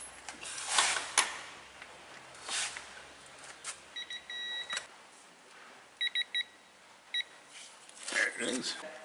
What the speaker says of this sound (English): It goes beep, beep, beep, beep. Then you get a solid beep when you hit the 150 that you have it set for.